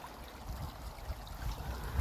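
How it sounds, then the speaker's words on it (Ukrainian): Water flows quietly in a stream near Bunratty, Ireland, a faint, low gurgle with soft irregular pulses and a small bump at the end, no voices. "Дивіться, як тече вода."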